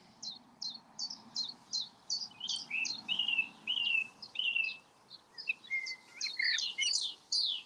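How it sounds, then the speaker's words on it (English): Blackbirds sing in the early morning along a countryside walk, a run of bright whistled and chirping phrases repeating in quick bursts with short pauses, moderately close over a faint low outdoor hum, with no talking. "Lots of blackbirds singing away."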